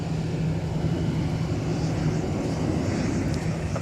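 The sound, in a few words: Delta Airbus A321 taxiing past on taxiway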